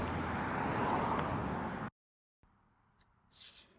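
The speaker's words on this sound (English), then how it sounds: "There are a lot of cars streaming by in both directions" Cars stream past on a busy street in both directions, a loud continuous roadway roar that cuts off abruptly to near silence, then returns as a much quieter muffled hum with a faint passing swell.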